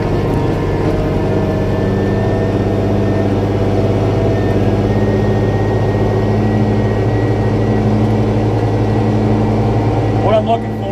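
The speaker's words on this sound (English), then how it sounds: "So I come up here, I shifted, I throttle back, shut the smoke off, turn." Tractor engine during strip tilling of corn on corn, a loud, steady low drone with a constant hum throughout, close and droning without pause while someone talks over it.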